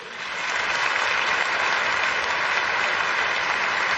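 Audience applause in a hall for the third-place contestant of a Quran recitation competition, a dense steady clapping that swells in within the first half second and holds loud and even throughout.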